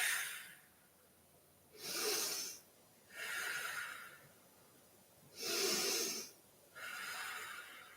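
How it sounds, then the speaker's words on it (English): Slow, deliberate breaths during a yoga session, five long airy inhales and exhales spaced a second or so apart, close and soft, with quiet pauses between. "And we breathe."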